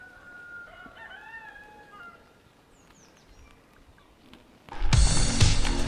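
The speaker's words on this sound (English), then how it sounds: "You can hear the birds." A rooster crows and birds chirp around a house in the Tuscan countryside, the calls moderate and somewhat distant over quiet surroundings, followed by a sudden loud burst of broadband noise near the end.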